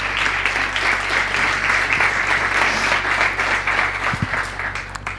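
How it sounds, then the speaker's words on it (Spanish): An audience at an entrepreneurship event applauds to welcome speaker Belén Canitrot, steady dense clapping held at an even level, with a brief low thump near the end. "Vamos a dar un aplauso a Belén Canitrón."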